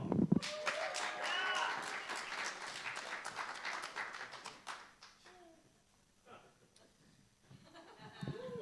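Audience applause welcoming a performer to the stage at a live music venue, strongest at the start and fading to scattered claps, with a voice and a child's chatter over it.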